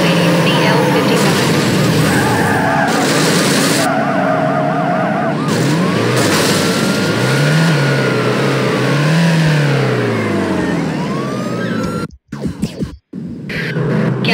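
A red Mercedes CL55 engine revs hard during a high-speed police pursuit in Need for Speed Hot Pursuit, with a wailing siren sweeping over the rising engine note under radio dispatcher chatter, then abruptly cutting to brief bursts near the end.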